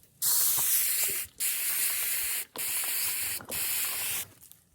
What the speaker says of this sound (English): bougie sprayer, with my mister. Just like this.